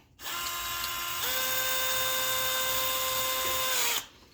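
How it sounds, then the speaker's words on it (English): A power drill whirs steadily up close for a few seconds, its pitch stepping up once, then stops abruptly. "Let me actually speed this up and use an actual drill."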